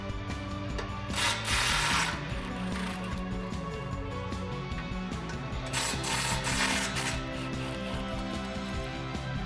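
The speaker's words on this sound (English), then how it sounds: "grab your 16mm socket and disconnect these two bolts" A ratchet with a 16mm socket works loose exhaust bolts on a 2019-2021 RAM 1500 5.7L, producing repeated mechanical clicking runs in close bursts amid shop noise.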